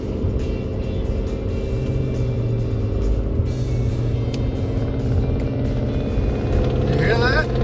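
Diesel engine of a nearby road vehicle, a steady loud rumble with a pounding drone heard from inside a car on the road, while a person talks over it.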